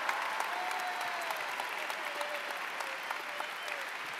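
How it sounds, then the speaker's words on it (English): Steady applause from a convention audience at the MINECON 2015 closing ceremony fills the whole stretch, a dense wash of clapping at moderate volume with no pause. "Give them a huge round of applause, Rob and Emma."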